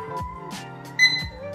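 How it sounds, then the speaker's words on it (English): A Viido wireless charging alarm clock with temperature display gives a short electronic beep on power-up, a bright tone near the middle of the clip over a faint hum and background tones. "it did have a beep here as it powered up"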